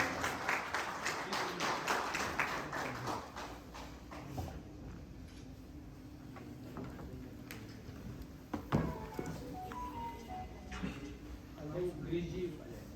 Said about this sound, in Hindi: और एक बार फिर से आप सभी की तालियां।